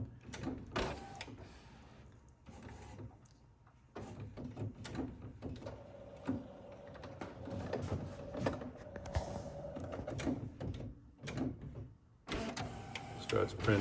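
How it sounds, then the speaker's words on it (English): An HP T120 large-format printer with a faulty rewinder left roll support runs its print cycle, with mechanical whirring, clicks and a steadier motor drone, mixed with occasional voices in the room. "Starts printing, and then it spins kind of madly, and then it stops printing."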